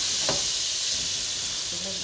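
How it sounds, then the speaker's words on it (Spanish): Marinated fish hisses and sizzles steadily in a hot frying pan during breaded fish preparation, with a brief clatter of handling and a faint voice. "Vamos a ponerlo en nuestro sartén en lo que marinamos los demás. Ya está caliente."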